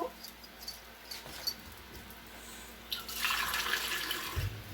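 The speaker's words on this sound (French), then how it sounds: "je vais mettre un tout petit peu d'eau" A little water is poured into a pot of paneer biryani, a soft, close trickle and splash that rises after a quiet stretch of faint kitchen clicks and lasts a couple of seconds.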